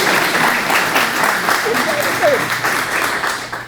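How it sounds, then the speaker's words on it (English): Audience applause after thanks to philanthropic supporters of the Rx Kids program at a local community event, a steady dense wash of clapping throughout with a faint voice or two murmuring underneath. "Let's give them a round of applause."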